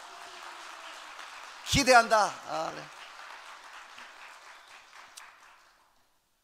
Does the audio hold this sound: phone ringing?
no